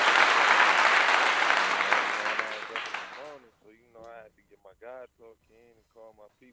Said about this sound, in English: Let me get this nigga a round of applause